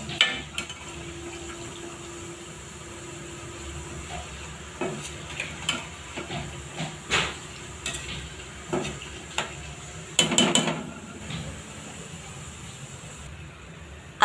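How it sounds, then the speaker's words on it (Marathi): Boondi batter frying in hot oil for motichoor laddu, a soft steady sizzle with scattered clinks and scrapes of a utensil against the pan, close by and without talk. "इथे अशा पद्धतीने आपल्याला बुंदी तळून घ्यायची आहे"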